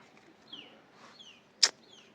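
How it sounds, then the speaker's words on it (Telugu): A lost hen's chick cries with thin, faint, descending peeps, repeated several times at a distance, with one sharp click partway through. "ఆడ కోడి పిల్లని చూసారా అది తప్పిపోయింది అరస్తా ఉంది"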